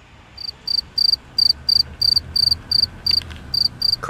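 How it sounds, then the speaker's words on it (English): Crickets chirp in a regular pulsing rhythm, about a dozen short bursts in steady succession, clear and fairly close over a quiet night background. "Crickets."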